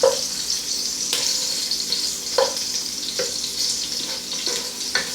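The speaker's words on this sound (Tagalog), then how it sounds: "Gigisa natin yung sibuyas." Onions sautéing in a pan for pork-trotter pucherong pata, a steady sizzle broken by periodic scraping strokes of a spatula, close and moderately loud with no talking.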